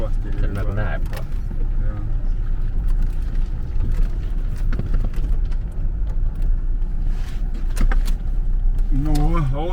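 A car driving slowly over a rough dead-end track on Muhu island, its engine rumbling low and steady with bumps and rattles throughout, while people talk inside over the noise.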